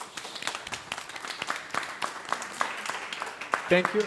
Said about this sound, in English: really ask you to give a big round of applause to our panelists